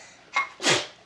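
A single sharp sneeze, with a quick intake followed by a loud burst, close by in a quiet room.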